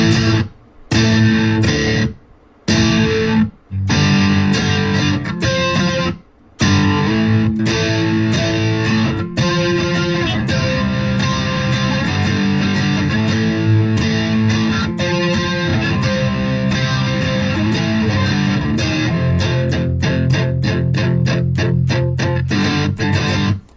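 Electric guitar played through a distortion effect on a modeler, heavy and loud, with several hard chord stops early on, then sustained chugging riffs and quick staccato palm-muted strikes near the end.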